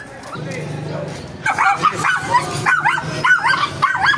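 Dogs barking and yipping outdoors in a village in Burdeos, Polillo, a run of sharp repeated barks with some whimpers that begins partway through, following earlier talk and background noise.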